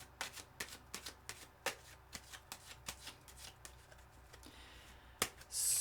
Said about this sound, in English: Now I've had a mighty shuffle